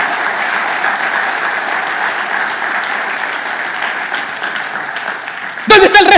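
A church congregation applauds steadily for several seconds in an indoor space, a dense, even wash of clapping before a voice abruptly cuts in at the end.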